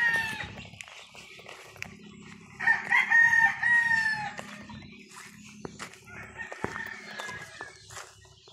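Rooster crowing loudly at close range among clucking chickens in a rural Philippine neighborhood, with a couple of shorter crows following and faint voices in the background.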